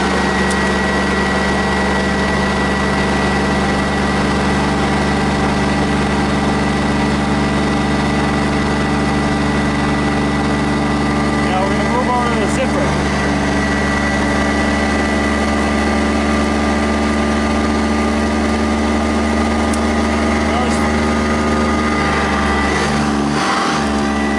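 A Sanitaire Eureka S647 upright vacuum cleaner motor drones continuously with a constant low hum and whining overtones, loud and close, with no talking.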